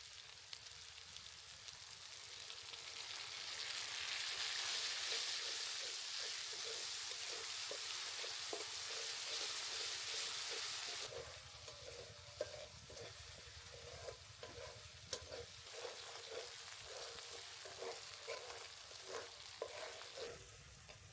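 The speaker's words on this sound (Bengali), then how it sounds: "মশলাগুলো সুন্দর করে ভেজে নিয়েছি" Spices with ground dried chili fry in a pan, a faint steady sizzle that drops partway through, then a run of soft regular stirring taps against the pan.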